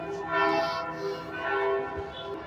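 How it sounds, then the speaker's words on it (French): Church bells ringing at noon in Florence, a dense wash of overlapping bell tones with swelling strikes, heard from some distance under open-air ambience with no talk. "il est midi, il y a les cloches qui sonnent"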